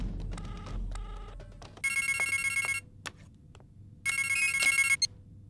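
A telephone rings in a Tamil action thriller film scene, sounding out in two clear bursts of bright trilling bell tones separated by a short pause, with a low room hum underneath.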